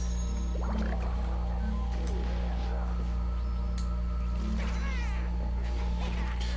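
Cat Lady card in the digital card game PvZ Heroes letting out meows, short rising cries over a steady game hum and music bed, with a few repeated mewing calls across the clip.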